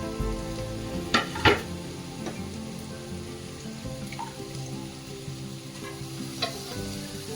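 Chopped beans, carrots, potatoes and green peas sizzle and crackle steadily in hot oil in a pot, with a few sharp clinks and stirring knocks near the start.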